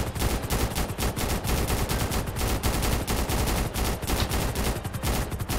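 Rapid, continuous bursts of automatic gunfire rattle loudly throughout, with shooting in GTA 5 crackling in dense volleys and brief gaps.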